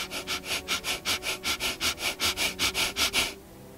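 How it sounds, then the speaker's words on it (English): A steady run of about fifteen short, sharp breaths pushed through the nose, rapid and even, close by, then silence. "Make an inhale and an exhale, short and forceful"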